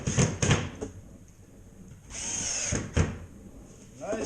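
A power drill drives screws into a drywall ceiling during a repair after a plumbing leak, with short, loud whirring bursts separated by brief pauses and faint handling noise.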